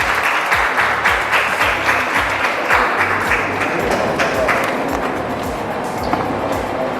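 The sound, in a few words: applause welcoming General Bakshi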